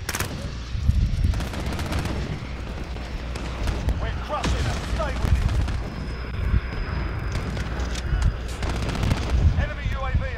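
Modern Warfare video game gunfire rattles in repeated bursts and single shots throughout, mixed with game effects, while a person talks over much of it.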